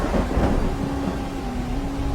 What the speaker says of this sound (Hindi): एक बार जंगल में तेज बारिश और तूफान आया।